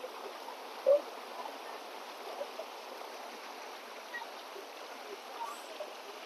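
A small waterfall pours steadily, a soft continuous wash of flowing water heard at a modest level with no voices, with a brief faint knock near the start.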